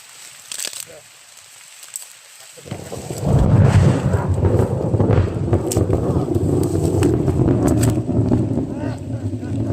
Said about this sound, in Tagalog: Malakas ang ulan ba rin?